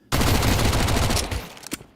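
Counter-Strike gunfire in a pro esports match erupts as a dense, loud burst of rapid rifle shots lasting over a second, then tails off with a couple of scattered final shots.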